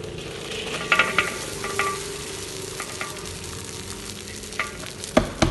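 Cooked rice is tipped and stirred through turmeric yellow rice in a large wedding-size batch made from four kilos of rice, giving scraping, rustling stir strokes and a few sharper clinks against the pot over a soft sizzling bed.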